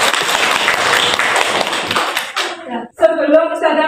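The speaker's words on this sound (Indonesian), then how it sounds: "Tepuk tangan untuk kita semuanya" An audience claps along with a teacher at a school assessment session in Surabaya, giving about two and a half seconds of dense, steady applause that stops abruptly before a voice begins talking.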